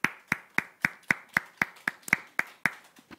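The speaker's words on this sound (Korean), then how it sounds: "우리 주님께 박수로 감사하십시다." Clapping at a church service, about a dozen sharp, evenly spaced claps in a steady rhythm, close and distinct against a quiet background.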